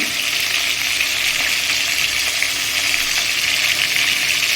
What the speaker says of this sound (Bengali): এটা একটু ভেজে নিয়ে তারপর মশলাটা করবো